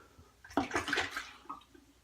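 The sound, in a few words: water rinsing shaving lather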